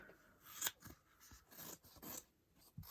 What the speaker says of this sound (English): And we're going to cut these out.